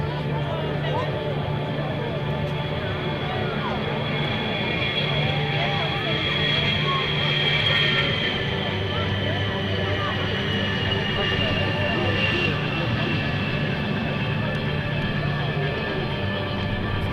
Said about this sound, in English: the rugged and dependable A-10 Thunderbolt 2